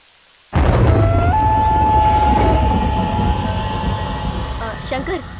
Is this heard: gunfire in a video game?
no